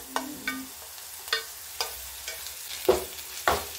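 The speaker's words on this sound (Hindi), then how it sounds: "अब इसमें डाल देते हैं अदरक ये कद्दूकस करके रखा था" Grated ginger added to browned onion and garlic in a pan, with a series of spaced scraping stirs and light sizzling, close and clear with no talking.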